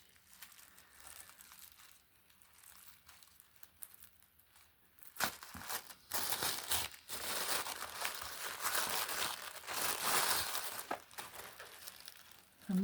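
Paper wrapping on an oracle card deck box crinkles and rustles during an unboxing. It starts faint and sparse, then turns into loud, continuous, close crackling from about the midpoint to the end.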